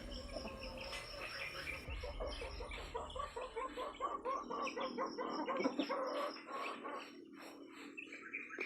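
Chickens cluck in quick, scattered bursts, fairly close, with faint insect buzzing and a quiet outdoor backdrop.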